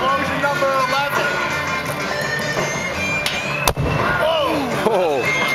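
A sharp firework bang cracks out over a constant noisy background of crowd commotion and voices at a motorcycle club's fireworks night.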